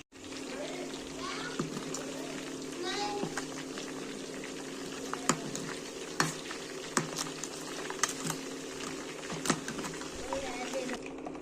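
Chicken half-fries in hot oil in a pan with a steady, close, dense sizzle and crackle, marked by a few sharp pops. A voice speaks over the frying.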